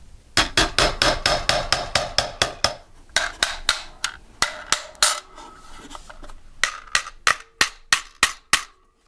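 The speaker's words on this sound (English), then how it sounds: "you're going to need your mallet or your hammer, and you're going to start tapping it in place" Sharp mallet taps strike in quick bursts, seating a base pad onto an AR-15 magazine, loud and close, with brief pauses between groups of blows; no one speaks.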